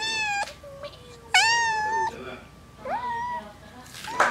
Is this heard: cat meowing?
yes